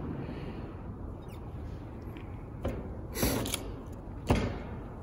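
An alcohol pad wiped firmly along an optical fiber while preparing a Corning Unicam fiber optic connector, giving a few short, close squeaky rubs, the clearest around the middle and near the end, over a steady low room hiss.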